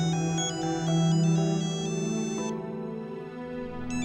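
A phone ringtone plays a repeating melodic tune, loud and clear, with steady electronic tones and no voices.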